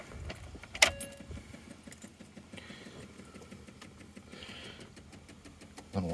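Car keys give a sharp, brief jangle near the start, then a low, steady hum continues quietly underneath, with a soft thump at the end.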